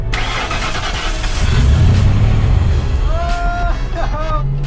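A Ford Explorer 5.0 V8 swapped into a '68 Mustang cranks and catches, then settles into a loud, steady rumble as it idles with a few light revs while a voice talks over it.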